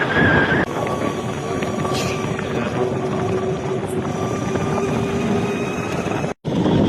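Strong wind roars steadily across the microphone of a motorbike ridden at night on a one-way road heading toward a dirt track, a constant buffeting rush with engine drone beneath it.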